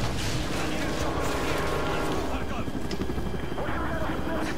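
Helicopter in the Modern Warfare 3 campaign, a continuous loud rotor roar mixed with battle noise and occasional bursts, with someone talking over it throughout.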